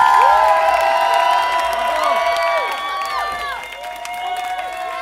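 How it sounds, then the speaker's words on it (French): A live music show audience cheers and applauds for a returning performer, with loud whoops and high shouts rising and falling over steady clapping, fading slightly toward the end. "Est-ce qu'on peut avoir, s'il vous plaît, le maximum d'applaudissements"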